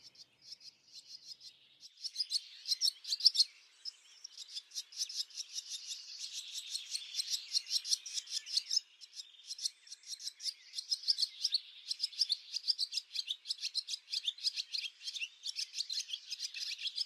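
A swallow perched on a porch light beside its nest chirps steadily, rapid high twittering calls repeating in close, fairly loud bursts with no voices.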